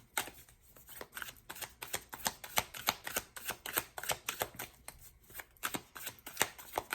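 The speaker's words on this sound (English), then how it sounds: "Let me take a couple more of these Stranger Things cards." A deck of Stranger Things tarot cards is shuffled by hand in quick repeated riffles, giving a crisp, rhythmic flutter of snapping card edges, close and clear with no talk.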